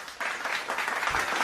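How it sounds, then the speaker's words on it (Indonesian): A classroom of fifth graders gives a group of students a round of applause, a dense burst of many hands clapping that starts abruptly and carries on steadily to the end. "Yuk semua kita berikan tepuk tangan untuk kelompok 1."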